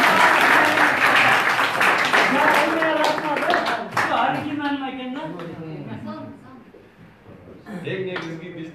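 Audience applause at a Chon Kazat gathering, a dense burst of clapping mixed with loud overlapping voices and shouts, tapering off midway before a short swell of clapping near the end.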